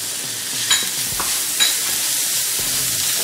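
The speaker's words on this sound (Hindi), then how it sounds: "पालक को अच्छे से मिक्स करेंगे।" Spinach is stirred into roasted flour in a pan over a medium flame, giving a soft, continuous frying hiss with a few light scrapes of the spoon, close and without voices.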